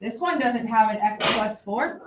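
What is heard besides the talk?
sneeze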